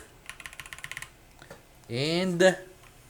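Quick typing on a Feker IK75 Pro keyboard fitted with Leobog switches: about eight close, crisp keystrokes in a steady burst, then a person speaks.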